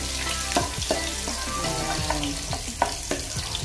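Ginger sizzling and frying in hot cooking oil in a pan, a steady close crackle with occasional stirring clinks and scrapes throughout.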